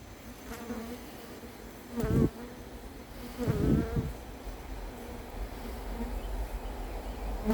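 A swarm of honeybees being collected at Varennes-sur-Seine buzzes continuously and close, a dense droning hum with a few louder surges as bees pass near, with no talking.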